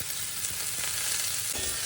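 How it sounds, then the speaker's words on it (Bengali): Chopped onions frying in a pan while being stirred, a dense, continuous close sizzle with a faint scrape of stirring, steady and even with no voices. "পেঁয়াজ সামান্য নেড়েচেড়ে দেব"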